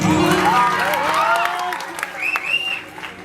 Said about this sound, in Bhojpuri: एक बार ताली बजा दी रही